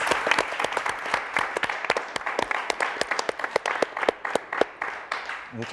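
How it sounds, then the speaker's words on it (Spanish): A crowd applauds young math champions, with dense, steady clapping that holds for the whole stretch, fairly close and with no voices on top. "un fuerte aplauso para todos ustedes, para los campeones"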